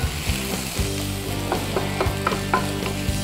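Bacon fries in a pan with a dense, close sizzle, and a low rhythmic thumping runs steadily underneath it.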